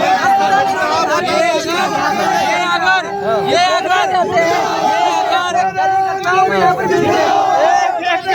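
An outdoor crowd at an open-air televised debate in Haridwar, Uttarakhand, chants protest slogans together, loud and continuous with many overlapping voices shouting close by throughout.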